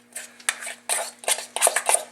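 A fork stirs and mashes soft butter in a bowl for breadstick parmesan butter, giving close, bright metallic scraping and clinking in short uneven bursts with no talking.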